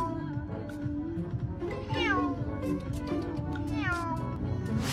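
A cat gives several drawn-out, swooping meows that rise and fall in pitch, imitating passing car noises. The calls are close and clear over faint background sound.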